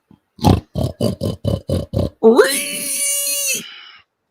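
A person imitates a pig with a fast rhythmic run of eight loud, close grunting oinks, then ends on a drawn-out squealing call.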